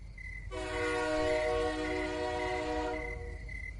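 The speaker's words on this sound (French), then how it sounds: "Les trains doivent klaxonner à chaque fois qu'ils traversent une ville ou approchent un passage à niveau." A US train horn blares in one sustained chord for a few seconds over a low rumbling background, moderately distant and steady.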